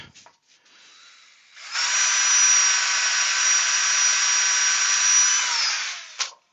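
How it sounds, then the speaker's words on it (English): A handheld power drill bores a hole through a scrap piece of wood: a faint start, then a loud, steady high-pitched whine for about four seconds before it winds down, with no one speaking. "and drill a hole in it."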